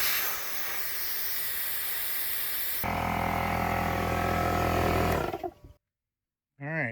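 Air rushes out of four vehicle tires at once through a FasterFlate deflation valve, a loud steady hiss that shifts in tone midway, then cuts off abruptly before a short burst of noise.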